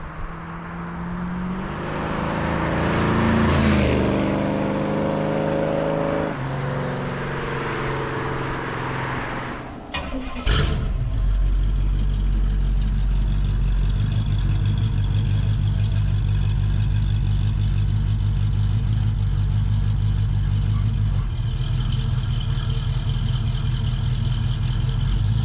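A 1973 Pontiac Trans Am with a 455 cubic-inch engine pulls hard into a turn, a loud steady engine drone with a shifting pitch early on, then a sharp clunk and a sustained lower rumble, with no talking.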